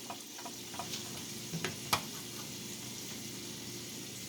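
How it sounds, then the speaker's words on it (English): Egg rolls pan fry in peanut oil with a low, continuous sizzle and a few faint pops over a few seconds, heard close with no voices. "You can also pan fry with enough oil."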